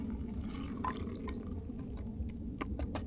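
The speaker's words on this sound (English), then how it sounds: "Grab our water. Dump it on in." Water dumped into a container at a campsite during a shed-hunting outing, a few seconds of splashing and dripping with scattered irregular drips close by.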